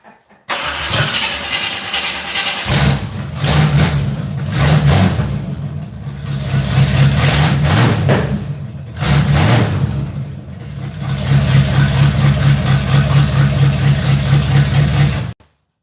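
A hot rod car engine cranks, fires and settles into a loud, lumpy idle with a few revs, heard close up and running steadily for about fifteen seconds without talk.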